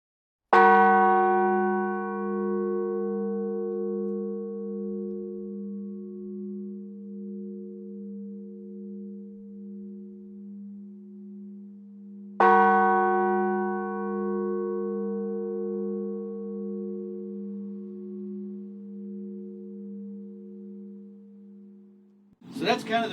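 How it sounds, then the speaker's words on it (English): An 1870 A. Fulton Son bell is struck slowly twice, about twelve seconds apart, each stroke ringing out loud and clear, then humming in a long, slowly fading toll like a funeral bell. "So that's kind of the funeral bell sound."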